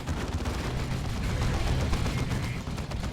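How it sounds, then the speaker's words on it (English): Heavy bolter fire in the Dawn of War 2 strategy game pours out as a dense, continuous roar of overlapping shots and battlefield blasts, loud and unbroken throughout. "Raining heavy bolter death upon these Space Marines."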